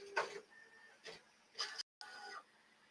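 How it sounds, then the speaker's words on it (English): A 3D printer runs noisily during test prints, giving off short bursts of whirring and mechanical ticking at irregular intervals, with a brief gap of silence between them. "my 3D printer is quite noisy"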